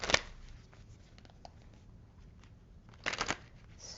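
Romance Angels oracle cards being shuffled in a quiet room, with a short riffling burst at the start and another brief flurry near the end, close by.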